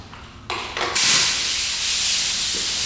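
Spray sealer is misted as a dust coat onto finned valve covers, a few short hissing bursts giving way to a loud, continuous aerosol hiss that runs steadily to the end.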